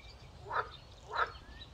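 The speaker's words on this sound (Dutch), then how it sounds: "Hoor je het? Die kikkers." Two croaks from frogs in a pond at a campsite, evenly spaced and moderately distant, rise above a faint background hum.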